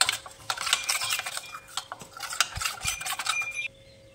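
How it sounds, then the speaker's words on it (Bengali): Spices, including turmeric powder, mixed together in a bowl with a spoon, rapid close scraping and light clinking of metal on the bowl, steady and moderately loud before stopping abruptly. "এবার মশলাগুলোকে একটু মিশিয়ে নিব"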